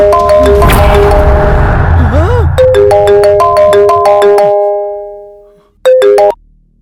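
A telephone rings with a bright electronic melodic ringtone, loud and close, repeating its tone pattern, fading out, then giving one more short burst, with a dramatic swell of noise at the start in a Hindi-dubbed horror film scene.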